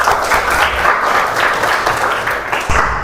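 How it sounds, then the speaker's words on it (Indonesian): A class applauds at the start of a coding training lesson, a loud, dense burst of many hands clapping together that carries on steadily for a few seconds before a thump near the end. "Tepuk tangan untuk kita semua."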